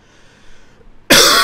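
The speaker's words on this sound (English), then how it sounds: "Coughing a lot." A single loud, sharp cough bursts out near the mic after a second of quiet room tone.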